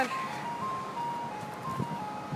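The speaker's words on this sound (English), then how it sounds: "There's the ice cream truck." An ice cream truck rolls through a sunny San Jose neighborhood, its tinkling chime melody carrying steadily over a low hum of traffic, moderately distant and uninterrupted.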